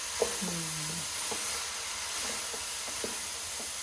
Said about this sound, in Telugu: దగ్గరే ఉండి కలుపుకుంటుంటే అడుగంటకుండా చూసుకోవాలి.